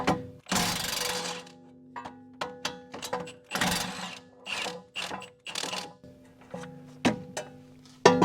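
Ratchet wrench clicking in short bursts as it loosens suspension bolts on a Mustang GT, with pauses between repeated rapid ratcheting runs and a few metallic clanks, fairly close and alone.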